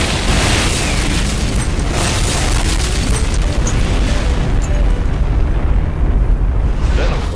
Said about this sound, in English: You're going to hear the doggonest explosion.